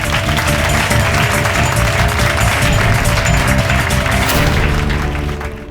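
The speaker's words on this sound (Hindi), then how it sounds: "तालियां!" A studio audience on a courtroom thriller TV show applauding, a dense continuous wash of clapping at full volume under music, holding steady before tapering off at the very end.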